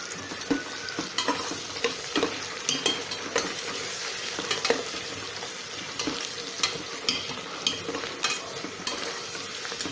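Ginger garlic paste frying in hot oil with steady crackling sizzle, punctuated by repeated spoon stirs scraping the pan, close and continuous throughout with no talk.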